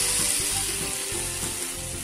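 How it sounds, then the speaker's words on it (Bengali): Spice paste with ginger is frying in a pan, giving a steady, dense sizzle with faint scraping of stirring, close up and continuous with no voices. "মশলাটা ভালো করে কষানো হয়ে গেছে"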